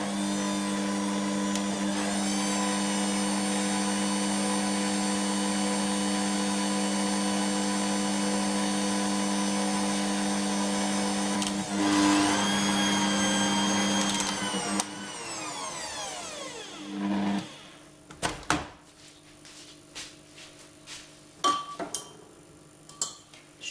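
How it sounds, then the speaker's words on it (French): A home food processor whirs steadily, mixing dry flour and powders for sandwich bread, a loud constant motor hum that spins down, followed by scattered clinks and knocks of the bowl and lid. "on va passer au robot. Je vais mélanger mes poudres."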